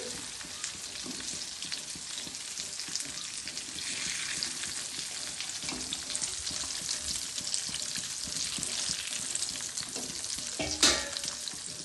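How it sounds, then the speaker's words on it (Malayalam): Sliced onions sauté in hot oil for biryani, a steady dense sizzle with occasional stirring scrapes and one brief louder clatter near the end, close and continuous, no voices. "ഇനി നമുക്ക് ഉള്ളി വാട്ടണം ബിരിയാണിക്ക്"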